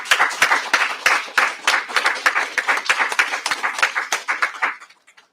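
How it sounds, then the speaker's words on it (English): A group claps at a press conference, a run of brisk, fairly close handclaps that thins out and stops near the end. "So I would like to applaud them."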